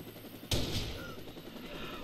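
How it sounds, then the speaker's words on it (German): In the Watch Dogs video game, a single sharp gunshot fired from a helicopter cracks out loudly and decays into a rumbling tail over the game's background sound. "Vom Heli aus erschossen."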